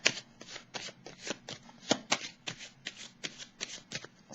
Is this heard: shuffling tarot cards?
yes